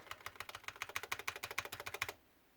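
Rapid clicking keystrokes on an RGB keyboard, about twenty crisp key presses in a steady fast rhythm, close and clear, ending abruptly into quiet.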